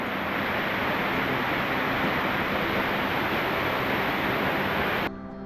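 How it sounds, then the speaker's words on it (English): A small waterfall on a Hawaii hiking trail pours with a constant, loud, hissing rush that holds steady before cutting off abruptly near the end. "Nice little waterfall."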